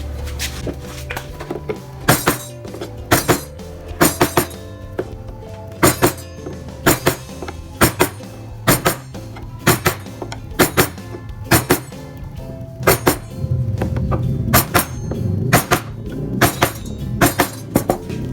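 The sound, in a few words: chisel carving wood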